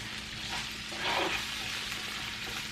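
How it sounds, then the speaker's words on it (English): Potatoes with spices stirred in a frying pan for picadillo, a soft continuous sizzle with a brief louder scrape of the spoon midway, quiet and close with no talking. "Giving these another stir just to disperse the spices."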